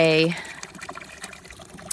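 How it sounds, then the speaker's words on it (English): Water pours into a farm water trough, a steady broadband rush that runs through the whole stretch after a short tonal sound at the start, with faint talk over it. "I'm filling a water trough right now"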